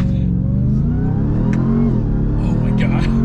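A 2021 Ram TRX pickup truck's engine held at a loud, steady high-revving roar for a launch control start, heard up close with people talking over it.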